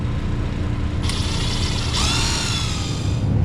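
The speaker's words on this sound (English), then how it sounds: "we're just gonna put the screws back on there." Power screwdriver driving screws back into the cover of a LAARS Pennant hydronic boiler in a boiler room, two short whirring bursts over a steady low hum.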